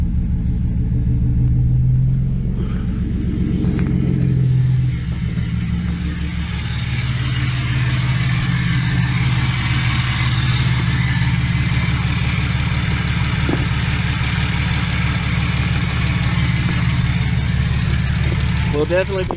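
A straight-piped BMW Z4 with headers and a newly installed engine runs extremely loud at close range. It gives a deep, rough rumbling idle that swells briefly early on, then settles. Voices can be heard faintly under the exhaust.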